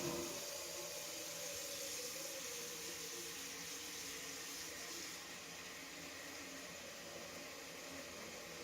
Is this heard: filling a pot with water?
yes